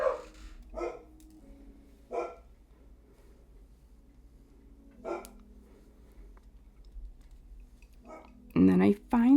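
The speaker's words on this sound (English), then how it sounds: "Excuse me, dogs." Dogs bark in a scattered series of sharp, separate barks indoors, some muffled and some closer, ending with a louder burst. A person talks faintly underneath.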